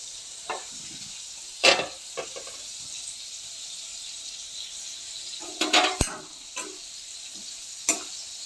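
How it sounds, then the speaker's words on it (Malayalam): Chopped spinach, grown on a terrace, being stir-fried in a pan with no added water: a faint, steady sizzle broken by scattered sharp spatula scrapes and clinks. "ഇനി ഇതിലേക്ക് ചീര അരിഞ്ഞ് വെച്ചത് ഇട്ട് കൊടുക്കാം."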